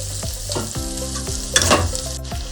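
Two chopped onions fry in extra oil with prawns, crackling and sizzling steadily while a spatula scrapes and knocks against the pan in repeated close strokes.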